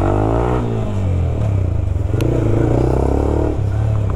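A motorcycle with an aftermarket, fully blacked-out exhaust revs and pulls away, its deep, steady engine rumble loud and close throughout with a slight rise in pitch as it rides off.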